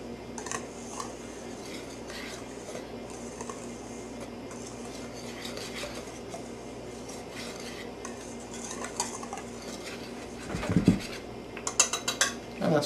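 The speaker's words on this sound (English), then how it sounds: "we're just going to take a whisk and blend all that dry stuff together" A whisk stirs dry baking ingredients, flour, salt and baking powder, in a bowl, producing a soft continuous scraping that ends in a burst of louder clinks against the bowl.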